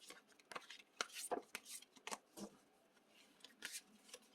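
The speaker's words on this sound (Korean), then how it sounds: "카드 섞어요" Tarot cards are shuffled close up, with quiet, irregular riffling and tapping that continue steadily at low volume.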